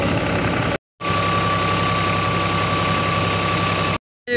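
A tube well bore pump's engine runs beside a canal in Sindh, a steady, loud, droning mechanical hum with an even rhythm, broken by two brief cutouts.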